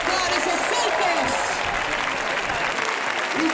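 Loud, dense applause from a large crowd at a recortadores contest in Gandía, 2012, a continuous wash of clapping with an announcer's voice calling out over it.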